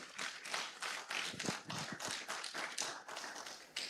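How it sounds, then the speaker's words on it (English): Audience applause at an annual general meeting of private medical and dental practitioners, a steady dense clapping from a crowd that carries on for the whole stretch with no voice over it. "Please, a round of applause one more time."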